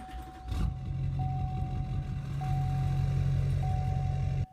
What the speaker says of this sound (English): So you hear the idle sound, and then it just breaks.